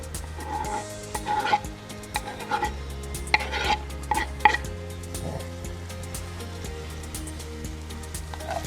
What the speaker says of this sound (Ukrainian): Закидуємо чесник.